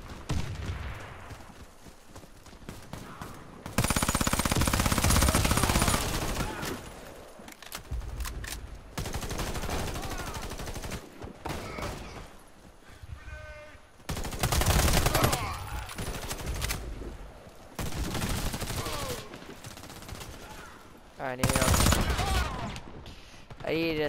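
Shotgun blasts and bursts of automatic gunfire in a Warface team deathmatch, with loud, dense volleys separated by quieter gaps, and a player talking in places.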